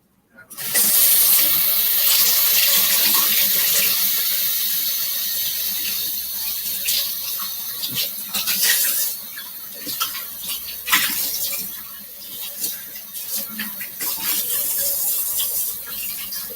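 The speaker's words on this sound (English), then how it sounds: "the only thing you gotta do is just rinse the seeds and stuff out" Tap water runs steadily from a faucet into a sink while seeds are rinsed out of a vegetable, a continuous close splashing hiss with small clinks and shifts in flow throughout, no voices.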